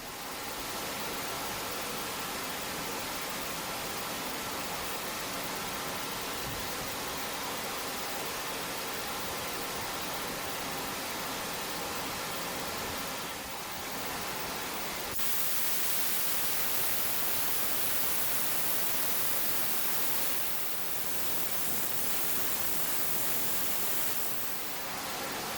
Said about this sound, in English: I've got my room air cleaner going. You can hear it running in the background.